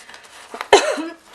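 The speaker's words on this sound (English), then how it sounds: "Sorry, I'm choking on my water." A single sharp cough bursts out, followed by a short strained throat sound, with faint rustling before it.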